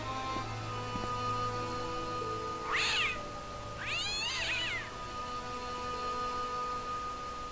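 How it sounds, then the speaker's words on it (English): In the adventure game Broken Sword, a cat lets out two drawn-out meows, the second longer and wavering, heard close over a quiet backdrop of steady ambient game tones. "there's a cat behind him"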